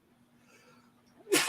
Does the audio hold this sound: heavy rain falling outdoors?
no